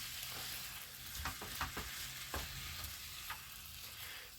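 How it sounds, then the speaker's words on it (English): Frozen hamburger meat frying in a pan, a steady close hiss of sizzling fat with scattered pops and brief scraping stirs, fairly quiet and with no voices. "Alrighty, guys, it is frying. It is frying up."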